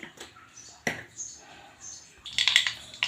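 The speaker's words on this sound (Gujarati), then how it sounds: "રાઈ જીરું સરસ ટટકી ગયું છે" Mustard seeds and cumin splutter in hot oil, giving scattered sharp pops and crackles at irregular intervals, fairly quiet, with a denser burst of crackling near the end.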